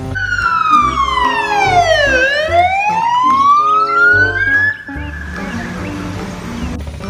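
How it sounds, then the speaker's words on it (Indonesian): An ambulance siren sweeps loudly past on a road among trucks and container haulers, its wailing tone falling then rising again as it goes by, before fading into traffic rumble. "ada mobil ambulan"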